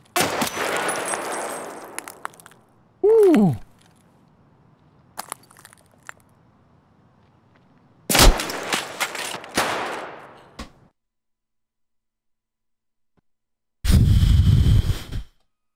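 M4A1 rifle fire in Escape from Tarkov comes in several loud, sharp bursts separated by quiet gaps, with brief clanks and a falling mechanical tone in between, and no speech.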